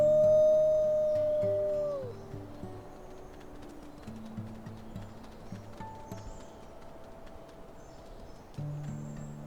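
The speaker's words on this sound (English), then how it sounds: "She howled after the boys, sending off a final farewell." A wolf in the video game WolfQuest lets out a single long, clear howl that slides down and fades in the first couple of seconds, leaving a soft game soundtrack running underneath.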